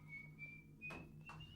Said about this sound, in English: whistling acting to show that everything is quite all right